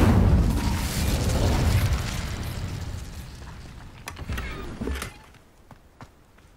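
A booming Incendio fire spell blast from the video game Hogwarts Legacy bursts out loud at the start, then rumbles and fades over several seconds, with a few clicks and thuds near the end.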